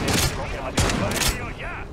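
Shotgun blasts in Modern Warfare 3 Zombies ring out as a few sharp, loud bursts with gaps between them, layered over game effects and a voice talking.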